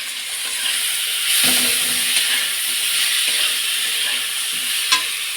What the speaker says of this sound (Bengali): তরকারি যে ভাজা হচ্ছে